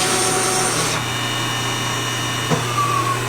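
A shop machine cuts 3/8 inch of metal off a motor flywheel in one pass, a constant loud grinding hiss with a steady low hum beneath it and a brief sharp scrape near the end.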